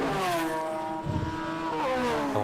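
Classic sports cars racing flat out at Winton circuit, a steady, loud engine drone with rising and falling harmonic tones as the cars pass and shift, heard alone without voices.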